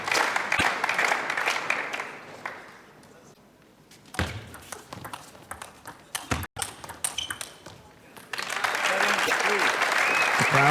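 A table tennis crowd applauds at the Austria Open final between Liu Shiwen and Ding Ning, loud clapping that fades into ball pings and paddle hits, then rises again in a full burst, with commentary over it.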